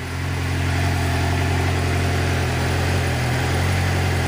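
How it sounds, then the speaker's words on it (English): A one-cylinder motorcycle engine idles steadily, a loud, even low thrum with a constant pulsing hum and no changes in pace throughout. "What is that, a one-cylinder engine?"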